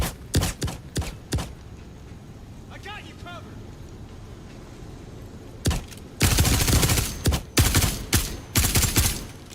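A gun firing with heavy recoil in Star Citizen, played live at CitizenCon 2023: a few sharp shots at the start, a quiet gap, then a loud close run of rapid repeated bursts. Voices sound faintly in the background.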